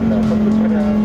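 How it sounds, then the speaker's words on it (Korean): A Lamborghini Huracán naturally aspirated V10 engine holds a loud, steady high-pitched roar at high RPM in sport mode on a race circuit, heard from close inside the car. "이 V10 엔진의 자연흡기 엔진, 이 소리는 진짜 가슴을 두근거리게 만드는 매력을 가지고 있습니다"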